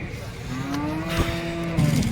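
A cow on a Maharashtra dairy farm, among HF and Jersey milking cows, gives a single drawn-out low moo lasting over a second, rising and then falling away, close by over steady farmyard background noise.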